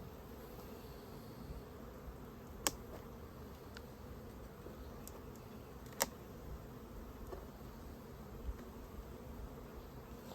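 Honey bees hum in a low, steady drone during a June hive inspection, faint and continuous, broken by a few sharp clicks from handling the hive; no one speaks.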